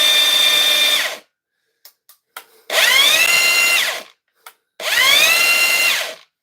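A Mellif brushless sander set to full speed whines loudly in three separate bursts, each spinning up in pitch, then cutting off, with a few faint clicks in the pauses.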